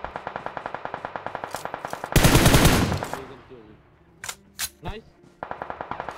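Rapid automatic gunfire in the Free Fire mobile battle-royale game, with regular bursts at the start and end, a loud blast-like roar around two seconds, then a few sharp single shots before the firing resumes.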